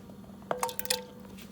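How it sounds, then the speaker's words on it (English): Vegetables dropped into a pot of boiled homemade turkey broth for leftover Thanksgiving turkey soup, making a few soft wet plops and squishes in a quick cluster over a steady low hum. "So we're adding in our vegetables since it is ready to be, since it's already boiled a bit."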